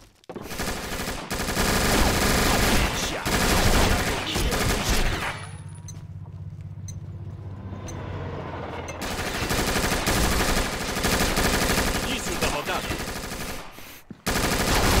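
Mac-10 submachine guns firing in the online shooter Combat Arms: loud, dense bursts of rapid automatic fire fill the clip, thinning out briefly in the middle before resuming, with voices talking over the gunfire.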